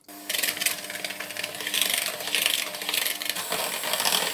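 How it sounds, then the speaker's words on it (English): Hand mixer beating cream cheese and sugar together in a bowl, a steady high electric whir with rattling beaters that starts suddenly and runs continuously, close and fairly loud, with no talking. "using my hand mixer again, which of course I have cleaned now, I am going to cream the cream cheese and the sugar together"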